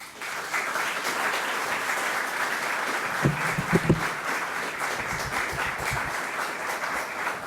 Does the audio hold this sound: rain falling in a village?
no